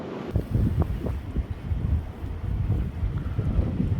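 Strong wind buffets a small fishing boat at sea, a steady low roaring rush against the microphone with no break, close and loud.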